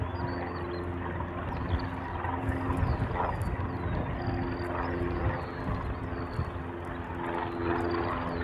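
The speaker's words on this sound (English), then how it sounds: "It's another 757 that's heading off to Guam." A Boeing 757 jet departs from the reef runway at Honolulu airport, its engines a steady, fairly distant broadband roar with a low hum that holds even throughout.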